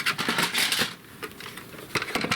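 Paper cut to size for card making, heard as close, crisp bursts of scraping or slicing with a quieter pause in the middle before cutting resumes.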